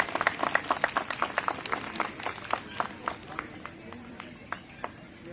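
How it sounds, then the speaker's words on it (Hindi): Scattered audience clapping at an outdoor Ramlila and Dussehra festival gathering in Chandigarh, distinct individual claps in an uneven rhythm, fairly close, with crowd noise beneath. "तालियां बजाएं प्लीज।"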